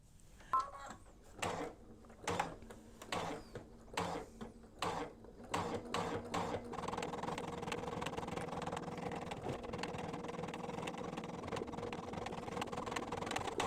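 Embroidery machine stitching a zigzag or satin stitch for an in-the-hoop mug rug, first a series of separate mechanical clunks and ticks, then a fast continuous whirring, rattling run of stitches close by.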